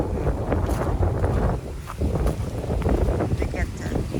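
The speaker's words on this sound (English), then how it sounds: "it's very windy today" Strong wind at Es Cana beach blows hard into the microphone as a dense, continuous roar with gusty swells, and a voice talks faintly beneath it.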